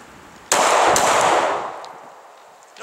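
A Glock 42 .380 pistol fires during a shooting drill: one loud, close shot cracks out with a quick follow-up, then a long echoing tail fades away.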